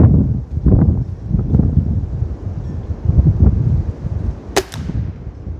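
A .22 calibre pellet gun fires H&N Hornet pellets: one sharp, loud crack stands out late in the clip, with quieter handling noise and a low murmur around it.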